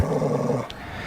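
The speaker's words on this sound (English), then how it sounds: "That little barking thing he does on the show" A Boxer dog lets out a low, rumbling growl-bark that lasts most of a second and then cuts off, followed by a faint quieter tail, close and fairly loud with no talk.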